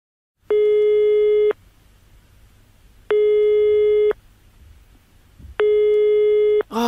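A telephone rings unanswered on the line: three long, steady electronic tones, each about a second, separated by regular pauses of quiet line hiss, with no one speaking.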